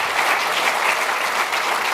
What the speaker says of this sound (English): That's everyone applauding for you guys.